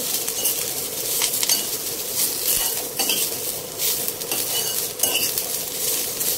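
A utensil scrapes and stirs Mangalore-style chicken sukka masala roasting in a pan over a low flame, with close metallic clinks against the pan above a soft, continuous sizzle.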